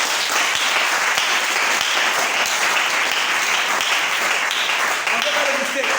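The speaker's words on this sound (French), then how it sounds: "On acclame le Seigneur." A church congregation breaks into loud, sustained applause acclaiming the Lord, dense clapping continuing throughout with voices mixed in.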